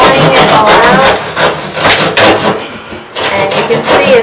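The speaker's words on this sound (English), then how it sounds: "we're just taking the whole strip of tiles out. Basically sawing it all out." Rough, rhythmic sawing and rasping strokes close by, cutting through bathroom tiles and backer board, with brief pauses between bursts.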